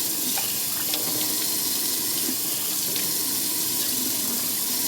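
Running tap water rinses out a brass trumpet or trombone at a sink, a continuous loud splashing hiss with no pauses and no voices.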